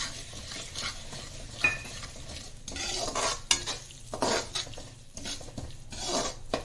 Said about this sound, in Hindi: खसखस को भी हम इसके अंदर भून रहे हैं